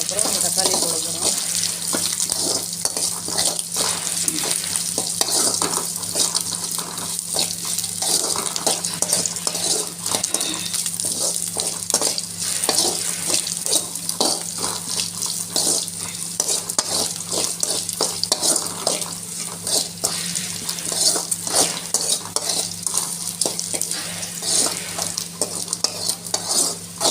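Onions sautéing in a pan, a continuous close sizzle with constant quick scraping and stirring strokes running throughout at an even loudness, no voices over it.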